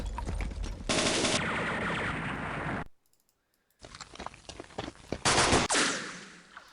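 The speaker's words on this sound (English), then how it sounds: "Machine guns." Machine gun fire in the war strategy game Campaign Series: West Front, loud sustained rattling bursts that cut to silence for about a second, then resume as choppy bursts with sharp clicks mixed in.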